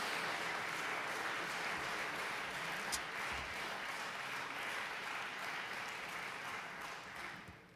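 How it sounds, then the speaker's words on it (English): An audience at a 2024 awards closing ceremony gives a long round of applause, dense clapping in a large hall that holds steady and then gradually thins out. "please give yourself a round of applause to all of you."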